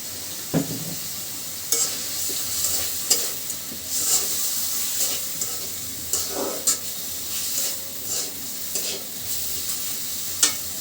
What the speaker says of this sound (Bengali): মশলার সঙ্গে ডালটা খুব ভালোভাবে কষিয়ে নেব